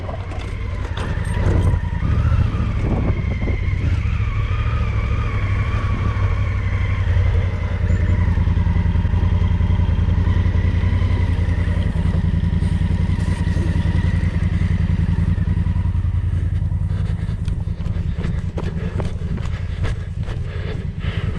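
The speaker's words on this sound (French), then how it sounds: "Faut que tu laisses aller la moto avec un peu de vitesse" Off-road motorcycle ridden on a trail-riding route through the Pyrenees and Bardenas, engine droning loud and steady with revving swells, rattling and wind buffeting close by.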